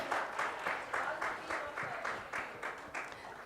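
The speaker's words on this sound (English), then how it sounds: "And a big round of applause if you can see your hands in the air." An audience at a global summit on growth and employment in Odisha applauds in a large hall, the clapping coming in rhythmic pulsing bursts at a moderate distance.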